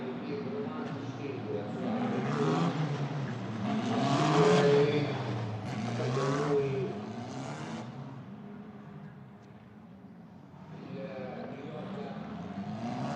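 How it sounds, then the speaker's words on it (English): Formula 4 race cars at Mugello Circuit during an Italian F4 race, their engines rising and falling as they pass at a distance, with a commentator talking over the whole stretch. "Stuka warms the tyres on a warm afternoon here at Mugello"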